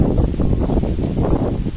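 Strong typhoon wind from Typhoon Kristine, a loud, continuous roaring rush with buffeting gusts hitting the microphone, no voices.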